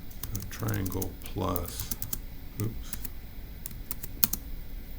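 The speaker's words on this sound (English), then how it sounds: "So let's go ahead and type that up." Someone types on a computer keyboard while solving a Turing Machine logic puzzle, with quick scattered key clicks and taps running under a man's speech.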